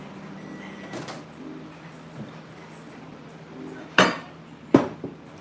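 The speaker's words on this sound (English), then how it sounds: "Did not mean to hit the microwave like that." A microwave gets hit by accident, making a few sharp hard knocks that stand out over a low, steady room hum, with two loud close bangs near the end.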